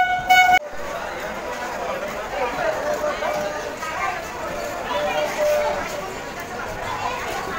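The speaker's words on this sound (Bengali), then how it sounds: "একেবারে অন টাইমে কিন্তু আমাদের বেথুয়া যাওয়ার train up Ranaghat Lalgola EMU passenger কিন্তু চলে এসছে" An Up Ranaghat–Lalgola EMU passenger train pulls into a station platform, its steady rolling rumble filling the scene after a brief horn toot at the start, with a voice talking over it.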